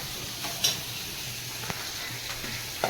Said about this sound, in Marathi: पालकची भाजी बनवते.